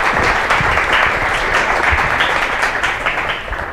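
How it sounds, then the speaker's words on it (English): A lecture audience applauds to welcome a speaker before a talk on ChatGPT, a dense, steady wash of many hands clapping, loud and close, holding evenly throughout and easing slightly at the very end. "So please join me in a short round of applause and thanking Xiaodan"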